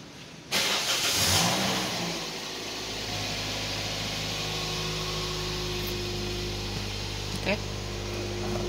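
A 2008 Toyota Vios G manual sedan's engine cranks and catches with a sudden loud start, revs briefly, then settles into a steady close idle hum, with a faint voice in the background.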